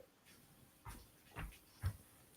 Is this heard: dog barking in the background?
yes